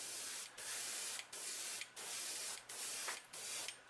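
Airbrush spraying thin Comart paint onto a fishing lure at low air pressure: five or six short hissing bursts with brief pauses between, close and fairly quiet.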